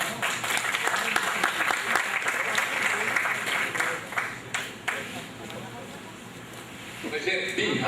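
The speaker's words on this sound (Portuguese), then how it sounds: "Vamos aplaudir" Audience applause at a literary event, a busy patter of claps for several seconds that thins and fades toward the end, with a voice speaking over it.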